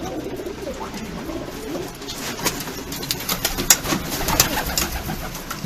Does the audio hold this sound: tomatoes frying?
no